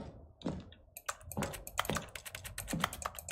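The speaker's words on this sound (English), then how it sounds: "it still has the keyboard sounds" Rapid clicking of computer keyboard keys in The Stanley Parable video game, a quiet, uneven run of taps growing denser and steadier, with no talk over it.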